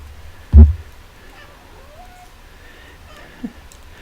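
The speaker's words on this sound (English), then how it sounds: "I don't know if you can hear her in the middle of all the meows." A cat meows softly with a thin, drawn-out cry, fairly faint against a quiet room, after one sharp thump near the start.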